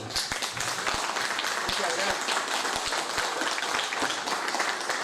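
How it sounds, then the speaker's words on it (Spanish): Audience applause at a community talk, dense continuous clapping with a few sharper individual claps standing out, filling the whole stretch at an even level. "Así que un aplauso pido"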